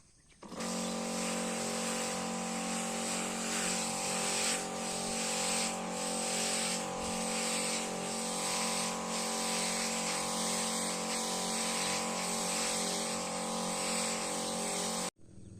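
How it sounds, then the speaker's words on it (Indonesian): Continuous pressurized hiss of a sprayer misting insecticide, fungicide and nutrient mix onto young chili plants on sandy lowland ground, steady and loud for about fourteen seconds with a constant motor drone underneath. "kita telah melakukan penyepraian insektisida, fungisida, dan juga nutrisi"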